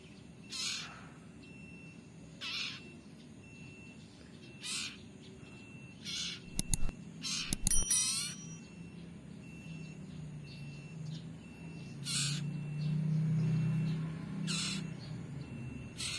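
Young cipo bird giving short, spaced calls at a regular pace, with a brief burst of sharper chirps midway over a quiet background.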